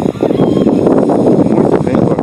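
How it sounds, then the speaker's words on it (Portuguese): Strong, gusty wind blows outdoors at a countryside retreat with lakes nearby, a loud, close roar buffeting the microphone in uneven surges throughout. "muito vento agora."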